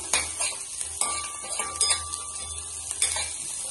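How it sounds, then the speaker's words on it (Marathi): Chilli and onion sautéing in a pan for cheese Maggi, a soft sizzle under a few close spatula scrapes and knocks on the pan. "मिरची आणि कांदा चांगला भाजला की त्याच्यामध्ये आपण टोमॅटो टाकणार।"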